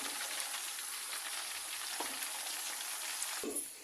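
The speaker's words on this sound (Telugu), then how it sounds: "సో అయితే మంచి బ్రౌన్ కలర్ వచ్చేంత వరకు ఫ్రై చేసుకోవాలి" Pieces of korramenu fish fry in hot oil with a steady, dense sizzle throughout, a few sharp pops and crackles breaking through near the end, with no voices over it.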